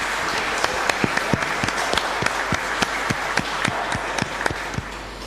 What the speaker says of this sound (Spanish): los dos merecen un fuerte aplauso